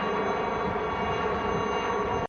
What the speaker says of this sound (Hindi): सबसे पहले वायुसेना के चेतक हेलीकॉप्टर तिरंगा लहराते हुए वहां से गुजरे।